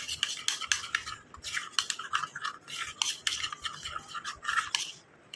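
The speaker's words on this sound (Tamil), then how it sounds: "இதை நல்லா நம்ம கலந்து விட்டுடலாம்." A spoon stirring a thick face pack paste of ground leaf and flour in a small bowl, close rapid scraping and clinking strokes in uneven bursts, with no talk.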